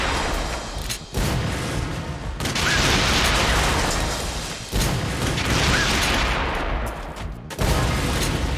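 A launcher weapon in the video game Bullet Girls 2 fires repeatedly, each shot a loud booming blast followed by a sustained roaring rumble, with brief gaps between the volleys.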